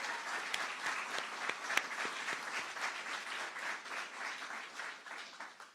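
An audience at a governor's news conference in Tampa breaks into applause, a sustained rattle of many hands clapping at moderate distance that tapers slightly toward the end.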